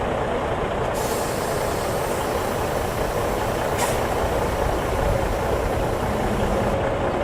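A truck at a driving school sits with its engine idling in a steady, loud rumble. A sharp hiss of air-brake release cuts in briefly partway through.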